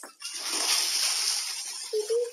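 A cartoon cat character in the Talking Tom mobile game peeing into a toilet: a steady, bright splashing stream of water poured into a bowl, fairly loud and continuous, ending with a short electronic tone.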